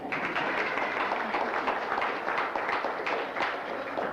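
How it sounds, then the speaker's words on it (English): An audience at a 1999 state reunion show applauds for Eddie, a dense, steady wash of many hands clapping that holds evenly throughout, moderately distant and fairly quiet, without talk over it. "Give Eddie a big round of applause."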